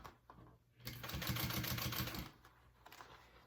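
A sewing machine topstitches a vinyl bag at a 1/4 inch seam allowance, making a rapid, close mechanical whirr of needle strokes for about a second and a half, with quieter handling clicks before and after.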